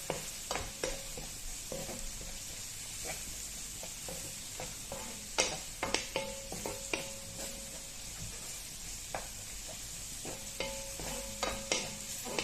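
Onions fry with spices in a pan for a bread and egg breakfast, sizzling steadily while a utensil stirs and scrapes the pan in irregular clicks and taps, close and moderately loud.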